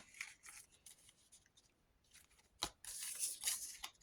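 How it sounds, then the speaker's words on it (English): Scissors snip through paper while cutting out a small paper house for a craft piece, a close series of quiet crisp cuts with brief rustles and pauses between them. "Cut a house out, one of Amy's houses. I cut round it"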